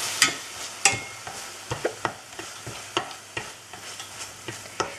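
Stirring in a frying pan holding tomato and sweet paprika for stuffed baby squid: a dozen or so sharp, close utensil scrapes and taps at an uneven pace over a low, steady sizzle.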